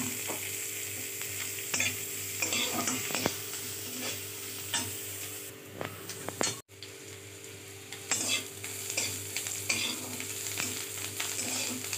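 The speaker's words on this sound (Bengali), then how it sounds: "এবারে এগুলো সবগুলো একসাথে একটু ফ্রাই করব।" Chopped cashews and other ingredients for a flattened rice pulao fry in a pan with a steady loud sizzle, broken by repeated scraping stirs of a utensil against the pan.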